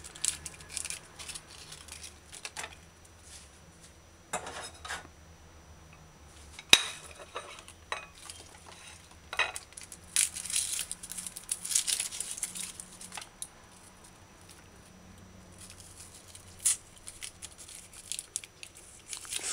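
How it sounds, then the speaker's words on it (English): An onion being peeled by hand, its dry brown skin pulled away with crinkly tearing and rustling in irregular bursts, plus occasional knife and board clicks, close and moderately quiet with no talking. "peel onion, remove the brown skin"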